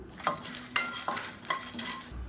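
Dry red chillies and peanuts being roasted in a pan, heard as faint, rhythmic scraping stirs about every quarter second over a soft, dry sizzle.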